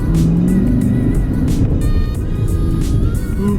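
A C7 Corvette Stingray's 470-horsepower engine roars loudly and steadily on a Miami street, a continuous close-up drone with faint tire noise throughout.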